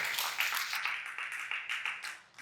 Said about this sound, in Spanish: Si tú lo crees en esta hora, dale un fuerte aplauso al Señor.